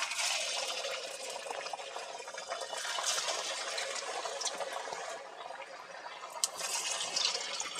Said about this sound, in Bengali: তেলটা গরম হয়ে গেছে আমি একটা একটা করে এগুলোকে ভেজে নেবো